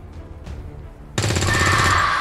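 Soldiers fire guns in XCOM 2: War of the Chosen, a sudden loud burst of rapid automatic fire after a quiet stretch with faint thuds, continuing close until the end.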